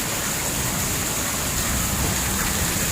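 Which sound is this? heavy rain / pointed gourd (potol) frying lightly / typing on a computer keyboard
heavy rain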